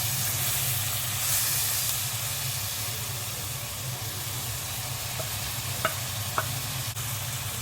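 Onions and tomatoes fry in a pan for a fish curry, giving a steady, close sizzle and hiss with a low continuous hum beneath and a few faint clinks near the end.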